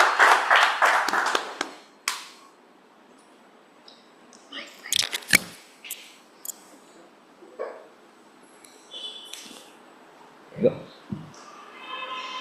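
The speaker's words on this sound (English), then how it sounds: "Let's give him a big round of applause." A small meeting audience claps briefly and loudly at the start, and the applause fades within about two seconds. Scattered taps and a few voices follow in a quiet room.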